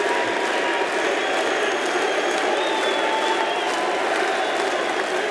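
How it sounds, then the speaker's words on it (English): A loud esports arena crowd at a PGL Astana 2025 Counter-Strike playoff match cheers and applauds in a steady, dense roar that fills the whole stretch with no break. "the crowd is certainly loud"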